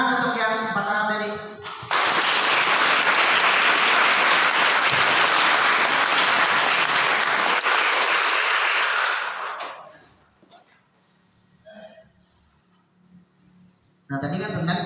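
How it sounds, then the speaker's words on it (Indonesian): An audience at a leadership training session bursts into loud, sustained applause for about eight seconds that then tapers off, with a speaker's voice heard before and after. "tepuk tangan untuk yang 4 tahun tadi"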